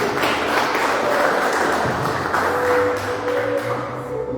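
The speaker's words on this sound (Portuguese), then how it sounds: "as palmas louvem ao Senhor" A church congregation claps in praise during worship, a sustained wash of many hands with faint tonal ringing underneath, steady and fairly loud throughout.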